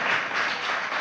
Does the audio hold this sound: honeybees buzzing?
no